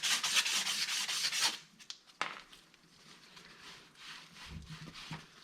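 Rust is scrubbed off rear wheel bearing parts from an Arctic Cat Wildcat 1000 HO, a quiet, rapid rasping rub that runs for about a second and a half, then gives way to sparse faint scrapes and light knocks.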